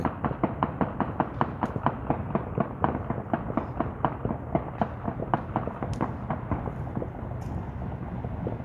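Rapid bursts of gunfire crack in quick succession on New Year's Eve in Detroit, dense at first then thinning out, echoing from some distance.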